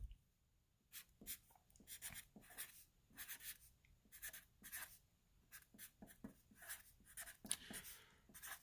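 A pen or marker scratches across a surface in a run of short, rhythmic strokes, close and fairly quiet with brief pauses between bursts, with no talking.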